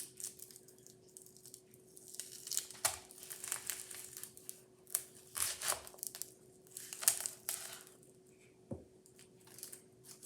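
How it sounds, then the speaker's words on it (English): A knife slices down through an onion from the top on a cutting board, giving a series of soft crunching cuts and taps at an uneven pace, close but quiet, with a faint steady hum underneath and no talking. "I'm going to start with the onion, and with the onion we are going to cut it top down."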